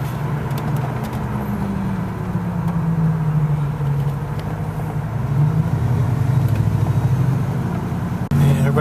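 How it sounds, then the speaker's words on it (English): Southbound road traffic heard from inside a vehicle, a continuous low engine and road rumble with cars passing, steady and fairly loud throughout. "Southbound traffic."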